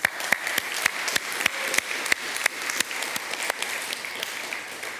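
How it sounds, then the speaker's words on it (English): A conference audience gives a round of applause, sparse, distinct claps ringing out at an uneven rhythm in a large room, moderately quiet and alone without speech. "I want us to give a round of applause for Milan and Wolfgang"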